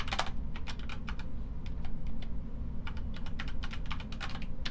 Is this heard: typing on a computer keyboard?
yes